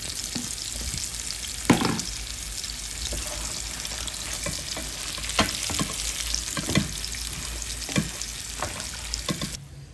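Chili fish and a few potato pieces sizzle steadily in a hot pan of oil, with occasional stirring scrapes and louder spits breaking through the continuous frying hiss.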